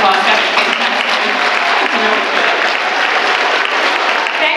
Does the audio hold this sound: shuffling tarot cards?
no